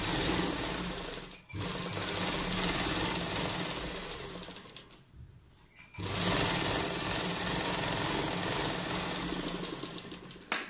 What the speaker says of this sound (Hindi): निशान लगाकर इसको अब हम यहाँ पे सिल देंगे।